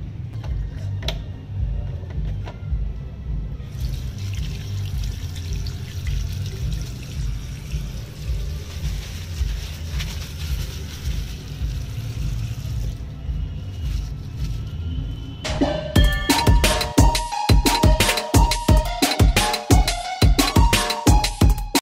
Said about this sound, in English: Let me just go and wash my hand.